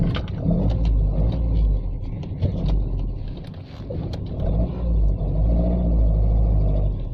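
A Matra Murena sports car driving along with a steady, loud engine rumble, the revs dipping briefly midway as a gear change, likely into third, is made before the drone picks back up.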